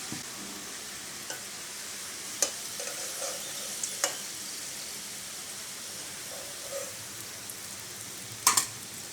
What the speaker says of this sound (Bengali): আলুগুলো খুব ভালো করে ভেজে নিয়েছি।